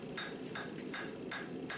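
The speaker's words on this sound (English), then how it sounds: "then I move over to a cross-peen hammer so I can flare out the bit of the axe" A cross-peen hammer strikes a farrier's rasp on an anvil while forging out an axe blade, four evenly spaced ringing blows, each followed by a softer rebound, at a moderate distance.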